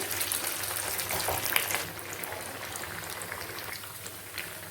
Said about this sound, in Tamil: இப்போ ஒரு சைடு நல்லா வெந்துருச்சு. இப்போ திருப்பி விட்டுக்கிறேன்.